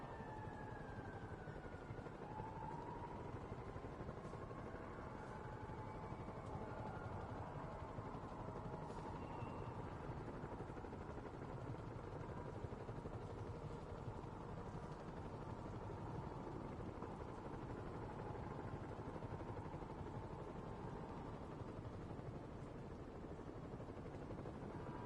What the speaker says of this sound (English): I'll just let you guys listen to the helicopter while I'm sorting